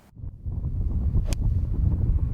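Strong wind gusting across a golf course on Maui, buffeting the microphone with loud low rumbling and a brief higher rustle partway through.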